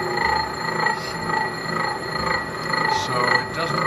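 A change-gear disc rings as it is cut on a Van Norman mill, giving a steady chirpy metallic ringing with pulsing tones over the rumble of the machine, close and continuous.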